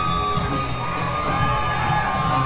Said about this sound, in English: we got a couple people cheering